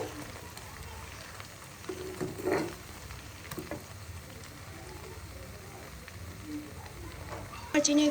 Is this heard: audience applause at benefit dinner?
no